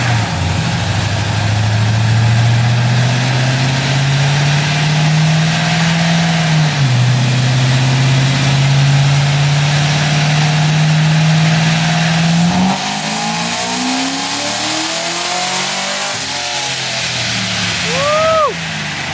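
A supercharged Corvette engine pulls hard on a dyno, its loud close roar rising steadily through a long sweep, then dropping off as revs fall, with a brief whine near the end.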